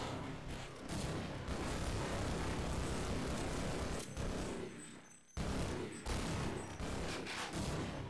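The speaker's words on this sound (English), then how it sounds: "Pretty sure bullets were coming at me from somewhere else there" Bursts of gunfire aimed at the player in Half-Life on PS2: dense, rapid volleys of shots that continue for several seconds, break off in short gaps, then resume. The firing is moderately distant and no one speaks.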